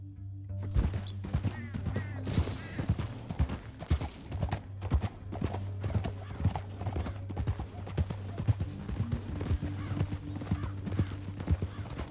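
Horse hooves clip-clopping in Red Dead Redemption 2, a quick, steady rhythm over a low electronic hum, with a brief whinny-like sound early on.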